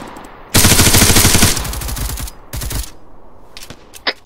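Turret machine gun fire in the video game ARMA 3: a loud, close sustained burst of rapid automatic shots, followed by shorter bursts and a few scattered single cracks.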